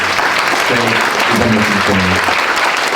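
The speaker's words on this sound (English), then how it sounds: "please give another round of applause to Ginger again" Audience applause for a speaker at a tech career workshop, a steady dense wash of many hands clapping throughout, with a voice speaking faintly underneath.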